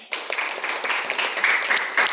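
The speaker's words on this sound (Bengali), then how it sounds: "আপনাদেরকে পুরস্কার তুলে দিয়েছে তার জন্য একটা হাততালি দিবেন।" Applause starts abruptly from a crowd at a rural village competition's prize-giving, a brisk, even clatter of many hands that holds steady to the end.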